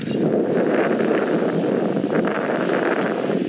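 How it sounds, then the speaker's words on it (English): Strong wind buffets the microphone on a sandy beach, producing a constant low rumbling roar with gusty fluctuations and no speech. "It's quite windy. I apologize for the video quality,"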